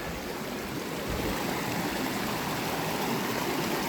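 Stream water flows on both sides of a big rock, a steady, dense rushing wash that stays even and unbroken throughout, with no voices.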